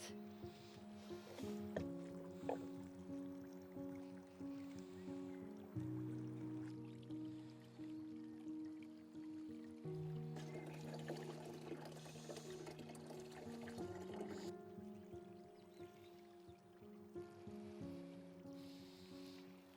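Water pours steadily from a can over an alpine garden planting, a soft continuous splashing trickle that runs throughout under a sustained tonal background.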